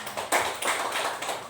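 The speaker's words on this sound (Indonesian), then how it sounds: "Kasih tepuk tangan buat Bu Melia." A short round of clapping for a teacher, several distinct nearby claps in quick succession over a brief moment.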